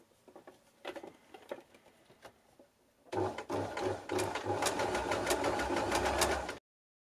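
A sewing machine zigzag-stitches stretchy leggings. A few light taps and fabric handling come first, then the machine runs in a steady, fast, close mechanical patter for about three seconds before it stops suddenly.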